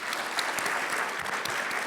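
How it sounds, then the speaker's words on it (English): Short burst of audience applause at a tech summit fireside chat, a steady wash of many hands clapping at moderate level, heard alone without talk. "can we get a round of applause for curating these stories for you?"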